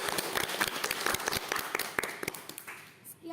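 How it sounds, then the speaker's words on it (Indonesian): A classroom of students claps for a group that has just presented, a scattered run of hand claps that fades over a few seconds. "tepuk tangan untuk kelompok 4."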